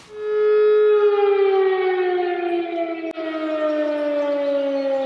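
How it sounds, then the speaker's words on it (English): A civil defense siren sounding its weekly Friday test in the Austrian countryside, one long loud wailing tone that holds steady and slowly falls in pitch, heard alone with no voices. "We think every Friday they do a test of the sirens."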